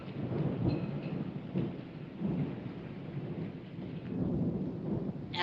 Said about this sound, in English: And the Thunder, Thunder.